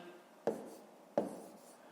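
Pen writing numbers on paper while setting up long division for a fifth-grade math exercise, two crisp taps of the pen landing, each followed by a soft scratchy stroke, close and quiet.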